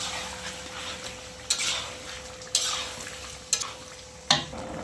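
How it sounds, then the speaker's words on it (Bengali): Coriander paste stirred into chicken in a pan over a soft background sizzle, with four distinct scraping strokes of a utensil against the pan spaced about a second apart. "এইভাবে আবার এটাকে মিক্স করে নেব"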